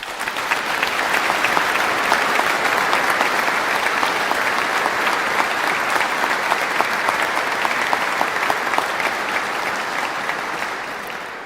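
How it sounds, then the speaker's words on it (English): An audience at a University of Exeter graduation ceremony in Cornwall claps, a dense, sustained round of applause that holds steady and tapers slightly at the end. "please join me in giving them the biggest round of applause to show your appreciation"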